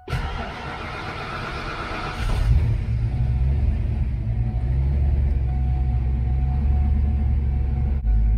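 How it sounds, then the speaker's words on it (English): A car engine catches after a brief crank and settles into a steady, low rumbling idle, with the idle air control set high, that continues to the end. "let's go ahead and start the car up"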